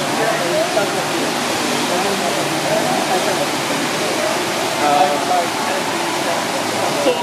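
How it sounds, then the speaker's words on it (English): Broad, steady rush of falling water from the huge indoor waterfall at Jewel Changi Airport, continuous and fairly loud, with faint crowd chatter mixed underneath. "this waterfall here"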